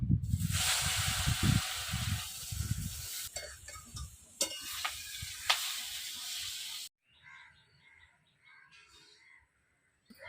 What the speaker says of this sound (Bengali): এই বাকি বেগুনটাও ভেজে নেব।